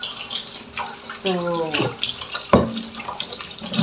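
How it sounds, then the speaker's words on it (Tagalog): Water flows steadily from a strong household tap into empty containers being filled for storage, a continuous rushing splash with a brief word spoken near the start. "buti talaga malakas ang daloy ng tubig ngayon"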